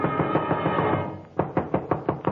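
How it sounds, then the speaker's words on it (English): Knocking on a door as a 1948 CBS radio drama sound effect, heard first under a dense rumbling background and then as a clear run of six loud, evenly spaced raps. "somebody was knocking on my door"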